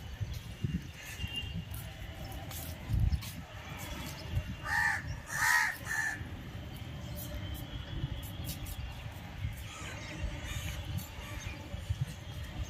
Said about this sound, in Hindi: देखो कितने सारे कौवा आए हुए सब वहां पे